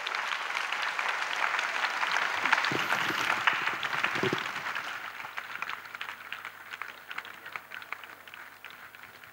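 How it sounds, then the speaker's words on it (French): A congregation claps for Jesus at a French-English evangelism gathering, sustained dense applause filling the room at moderate loudness, a few brief shouts rising over it, no talk. "Clap for Jesus."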